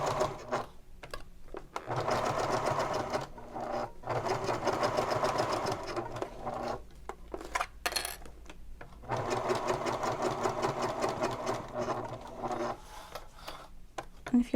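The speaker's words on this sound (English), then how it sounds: "I'm going to sew all the way around." A sewing machine fitted with a Teflon foot stitches vinyl for a messenger bag, running in steady whirring bursts of several seconds each, broken by short pauses, close and alone.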